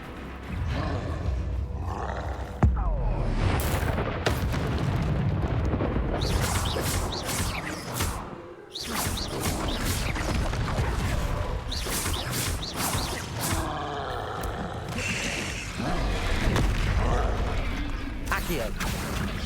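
Confringo blasting spell explosions in a Harry Potter video game: loud, dense bursts and crashing roars fill the whole stretch, with a brief dip near the middle, as a player shouts spell names over the action.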